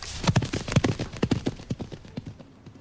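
Horse hooves clip-clop in a quick irregular run of hits, close at first and gradually fading as the horse rides away.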